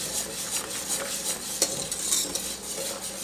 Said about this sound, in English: I'm going to add the eggs slowly and stir quickly.